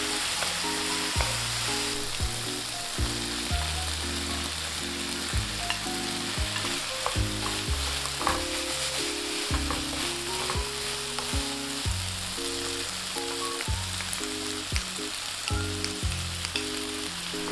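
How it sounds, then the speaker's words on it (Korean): Rice cakes stir-frying with beef, vegetables and a sweet soy sauce for royal court tteokbokki, a steady close sizzle and crackle running throughout, with no talking over it. "타지 않도록 불을 조절하면서 떡에 소스가 들러붙을 때까지 잘 볶아주세요"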